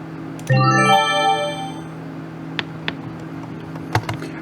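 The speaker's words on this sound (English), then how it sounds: "I would pick up an item in a video game if that sound played every time that I did." A fast synth arpeggio from the Exakt Lite VST plugin: one rapid, rising, bright bloop in the first second like a video-game item pickup, then fading into a quiet tail with a few faint clicks.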